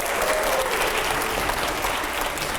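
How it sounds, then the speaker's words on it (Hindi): Loud sustained applause from a studio audience at a televised Indian political debate, a dense continuous roar of clapping throughout. "जोरदार तालियां हो पहले।"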